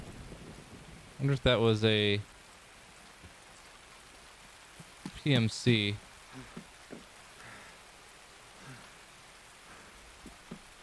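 Steady rain hisses in the background of the Escape from Tarkov single player mod, with someone talking briefly over it twice.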